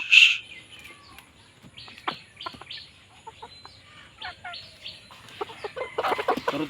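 Backyard chickens kept at home for a small local poultry business cluck and chirp in short, scattered calls. A sharp squawk opens the sequence and busier clucking builds toward the end.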